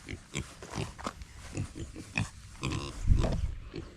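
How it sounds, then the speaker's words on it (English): Pigs grunt and snort in a busy, irregular stream of short rough calls, close by and fairly quiet, with some human voice mixed in. "Yay, pigs!"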